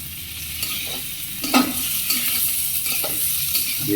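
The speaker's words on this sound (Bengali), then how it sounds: "দিয়ে একটু নেড়ে ভালো করে ভেজে নিতে হবে" Chopped egg and potato frying in a pan, a close, steady sizzle broken by scraping stirs from a spatula, with no talking.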